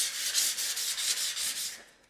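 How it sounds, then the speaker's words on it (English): Rhythmic back-and-forth strokes of wet sanding on painted satin finish with soapy water, a close, hissing scrub repeating about every quarter second before trailing off. "obviously I'm wet sanding."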